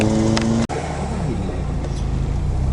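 A car drives around town with a steady, loud engine and road rumble inside the cabin, interrupted by one sharp momentary dropout, then the drone continues unbroken.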